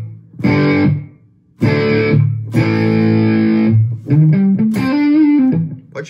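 Dry electric guitar on a low-gain, slightly crunchy tone with no reverb or delay, a few chords struck and cut short, then a short rising single-note phrase, loud and close with no talking.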